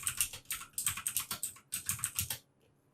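Close, steady typing on a computer keyboard while entering a command on a Cisco IOS router session, a brisk run of clicking keystrokes for about two and a half seconds before falling quiet.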